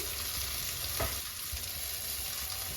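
Tomatoes and peas fry in a pan for vegetable Maggi, giving a soft, even sizzle with one brief stirring scrape, fairly quiet and steady throughout.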